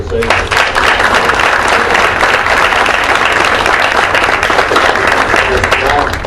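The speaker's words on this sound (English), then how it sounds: "let's join in a round of applause for your organization" Steady, dense applause from a crowd at a Fort Myers city council meeting, a round of clapping for an honored organization lasting throughout without pause.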